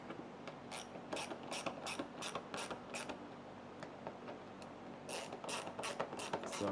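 A hand ratchet tightens bolts in a crisscross pattern on a 2006 Can-Am Outlander 800 ATV, quick bursts of crisp clicking strokes repeating in rhythm with short pauses, close and quiet, no talk.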